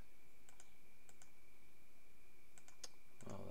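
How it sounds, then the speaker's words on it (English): Quiet, sparse keyboard typing while installing Microsoft Teams on a Linux computer: a few scattered clicks in small clusters against a faint steady hum, with a slightly louder rustle at the very end. "I log in here, and type the clipboard text."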